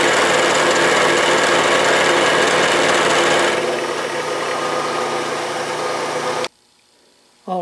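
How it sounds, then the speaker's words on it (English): A milling machine cuts a flat spot for a set screw on an arbor shaft, producing a loud, steady rasping grind that eases to a softer whir before stopping abruptly. "I'm at the mill and I'm putting a flat spot for the set screw on the shaft."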